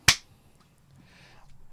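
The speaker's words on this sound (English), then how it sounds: "let's do the clap" A single sharp hand clap rings out at the very start of a live gaming podcast stream, loud and close, followed by near silence with faint room noise.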